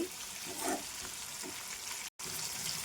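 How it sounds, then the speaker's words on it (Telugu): Pieces of ivy gourd (tindora) frying in a pan, a soft, steady sizzle and crackle close by with faint stirring, broken by a brief cut to silence. "దొండకాయ ఇలా వచ్చే వరకే వేయించుకోండి."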